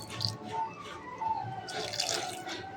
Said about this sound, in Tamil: ஒரு அரை டம்ளர் தண்ணி ஊற்றிருக்கேன்